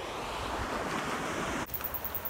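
Ocean surf washes steadily onto New Chum Beach in New Zealand, a continuous near roar of breaking waves with some wind noise, briefly dipping near the end before resuming.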